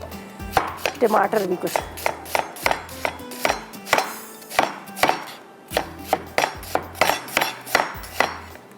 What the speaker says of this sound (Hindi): चलें जी, इसको थोड़ा चॉप करते हैं